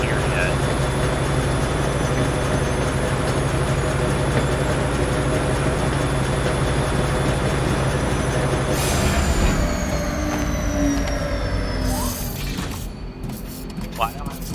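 Train engine and rolling wagons in the video game Foundry, a steady loud rumble with metallic wheel squeal, the noise easing and thinning out toward the end as the train slows.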